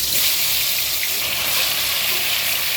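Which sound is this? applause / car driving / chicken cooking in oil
chicken cooking in oil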